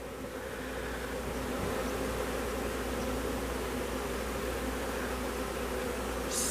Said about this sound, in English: I got a swarm, so now I just added an extra hive.